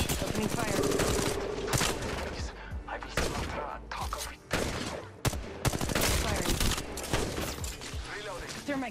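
Heavy gunfire in the video game Apex Legends, loud and close: dense bursts of automatic shots with brief pauses and a couple of sharp single cracks, plus clattering impacts, continuing throughout.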